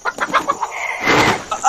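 A startled chicken clucking in quick bursts, then a loud rush of wing flapping close by, with no talk.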